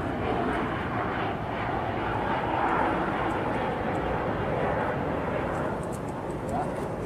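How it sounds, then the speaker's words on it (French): Airplane passing low over the approach line to the Liège airport runway, a steady loud broadband engine roar filling the whole clip, with some talk mixed in. "il y a assez bien d'avions qui vont encore passer"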